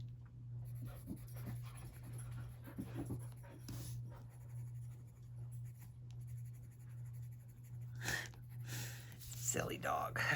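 A dog pants and snuffles close by, faint and intermittent, over the steady scratch of pencil on paper and a low electrical hum.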